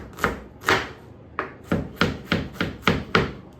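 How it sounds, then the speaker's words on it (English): A knife cutting onions into julienne on a board: eight crisp chops, two spaced apart and then a quicker, even run of strokes, each a close sharp knock on wood, with no speech. "This is how to julienne your onions"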